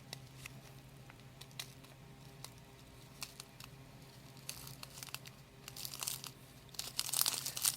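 Items are pulled out of a plastic bag with soft, scattered crinkling and rustling that grows a little louder toward the end. The sound is faint and close, with no talking.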